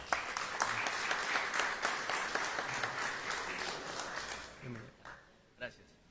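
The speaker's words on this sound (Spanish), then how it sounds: "Fuerte las palmas para él." Dense audience applause at a book launch presentation, steady and full for about four seconds before thinning into scattered claps and a few voices as it dies away.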